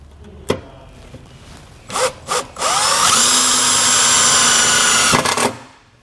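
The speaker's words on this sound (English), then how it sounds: "We'll then use the included self-tapping screw and just run it right into the bottom of this panel." Power drill running a self-tapping screw into the bottom of a panel while installing a trailer wiring kit: a few short blips, then one sustained whirring drive of about three seconds, close and loud.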